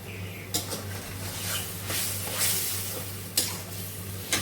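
Spice paste sizzles and is stirred in a pan for a Bengali curry, with a spoon scraping and clanking against the metal in a few sharp knocks over a steady frying hiss and low background hum.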